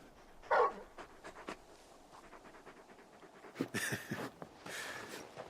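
Torgal, the large wolf-like hound in Final Fantasy XVI, panting in quick rhythmic breaths at close range, with a brief whimper early on and soft in-game ambience.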